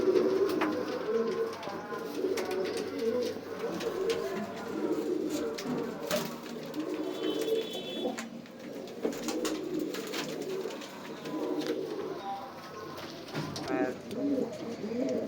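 Many pigeons coo continuously at moderate distance, a dense murmuring chorus with occasional flutters and faint voices mixed in.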